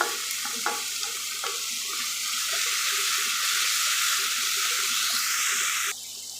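Chopped tomatoes sizzle and fry in a pan, a loud crackling hiss with a few clinks early on, steady until it drops off near the end.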